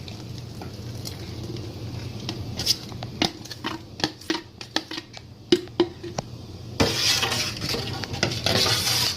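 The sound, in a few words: mixing zobo drink ingredients with ginger, cloves, black pepper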